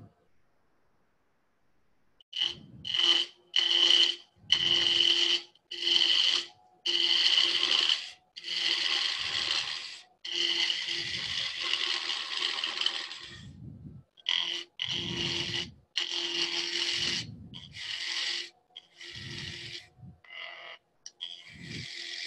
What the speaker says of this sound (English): I'm running the lathe at